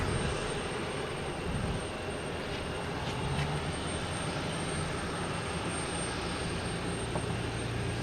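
An airliner taking off from runway 15 right at Boston Logan Airport, a steady broad engine roar that stays loud and continuous throughout, heard from a distance outdoors.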